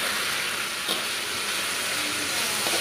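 Diced onion hitting a hot pan with chicken for gravy noodles, a steady loud sizzle of frying with a brief spatula scrape near the start and another near the end, no voices.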